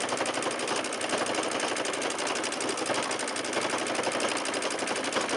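Sewing machine running steadily during free motion quilting of a jelly roll quilt block, a fast even needle rattle that stays constant and close throughout with no pauses or voices.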